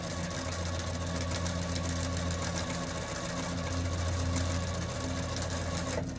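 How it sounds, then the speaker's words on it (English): A sewing machine stitches steadily around a fabric bowl cover, a loud continuous motor whir with rapid needle clatter and no pauses. "you're going to sew the whole way around at a 1/2 inch"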